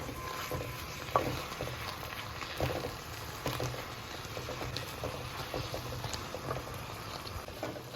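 Mint leaves frying in oil and being stirred in a pan, a steady soft sizzle with scraping stir strokes and one brief clink, close and fairly quiet.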